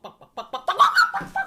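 A human voice imitates a running chicken clucking, a quick series of short staccato clucks rising into a louder squawking burst, close and clear.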